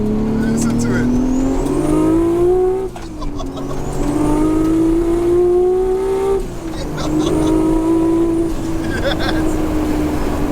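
Nissan R34 GT-R engine on low boost, revving loud and close in three long rising pulls that drop back between them, with a steady turbo whine, a harsh exhaust note and voices talking over it.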